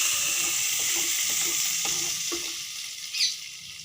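Tandoori chicken pieces frying in hot oil give a dense, bubbling sizzle broken by stirring clatter. The sizzle eases toward the end, and a brief squeak cuts through near the close.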